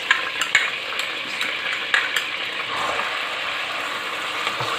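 Finely chopped onion frying in about a cup of oil in a deep pot, a steady broad sizzle with faint scraping and clinking of a stirring spoon against the pot.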